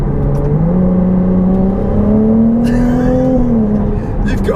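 A Ferrari 296 GTB with a hybrid V6 accelerating hard in qualifying mode, its loud, close engine note climbing steadily in pitch, then easing slightly near the end.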